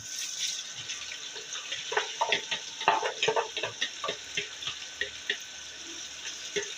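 Chopped onions sizzle and fry in a pan after bitter gourd has been browned, with steady crackling hiss and frequent clinks and scrapes of stirring, close and moderately loud.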